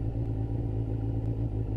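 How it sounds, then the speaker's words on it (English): A Kawasaki ZZR600 motorcycle with a loud aftermarket exhaust idles in a steady, deep rumble, close and continuous with no voices. "Too bad I don't have a stealth mode for this exhaust."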